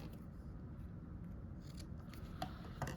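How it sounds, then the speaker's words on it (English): Scissors snip yarn tails on a crocheted Christmas ornament, giving a few faint, quick cuts near the end against a quiet background. "Just going to trim these tails."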